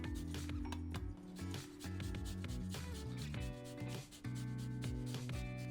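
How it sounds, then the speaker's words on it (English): Fresh ginger is grated straight into a mixed dish, giving a steady run of soft, repeated rasping strokes over several seconds. The scraping is quiet and close, with faint tonal sounds in the background and no talking. "What I'm going to add in at the end is our ginger, and I'm going to grate it right into"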